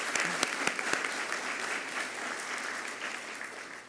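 Steady applause from an audience at a 2016 early college graduation ceremony, dense clapping with a few sharp near claps at the start, sustained evenly throughout.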